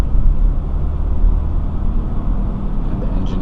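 A BMW X5 40e plug-in hybrid drives with its engine running, giving a steady low-frequency rumble and road noise inside the cabin, close and continuous throughout.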